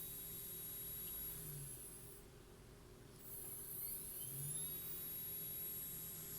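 A brushless DC spindle motor salvaged from a hard disk drive spins at high speed, a steady high-pitched whine and whir that dips briefly midway and then rises again, with no voices.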